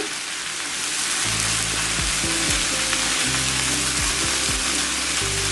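Mixed vegetables are stir-fried restaurant-style with salt and black and white pepper powder, giving a loud, steady, close sizzle with soft scraping stir strokes underneath.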